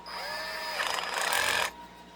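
A cordless power drill in torque-clutch mode whirs steadily at close range, its motor pitch rising and straining briefly before cutting out abruptly.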